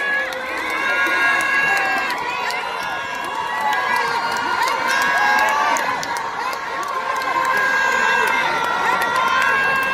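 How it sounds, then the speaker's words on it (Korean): A large crowd at an outdoor festival in Gwanghwamun cheers and applauds together after a singer's performance, a steady loud roar of clapping and shouts with excited whoops rising throughout. "뜨거운 박수 한번 많이 부탁드리겠습니다"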